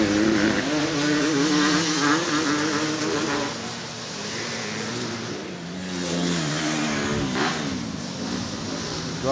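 Race car number 222 passes in a club championship round at Lakes, a buzzing engine drone that holds steady, dips and then swells again as the car goes by, with no voices.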